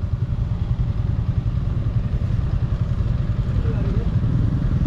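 Motorcycles pass along the GMA-Carmona Road in the Philippines, which is blocked by garbage after a dump truck crash. The engines make a steady, loud low rumble that continues through the clip.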